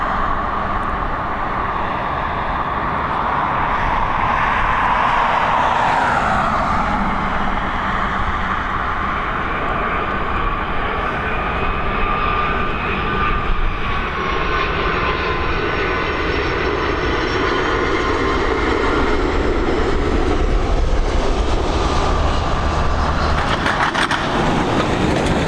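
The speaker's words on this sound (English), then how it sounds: "Star Alliance liveried at a 757. Final stages of descent now as she comes in." A Boeing 757 in Star Alliance livery descends to land at Dublin Airport, its loud, continuous jet roar holding steady throughout with a slowly shifting whine and no talk.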